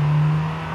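A 2021 MG6 XPower in Forza Horizon 5 pulls in third gear from about 60 km/h, a steady droning engine hum heard briefly and fairly loud.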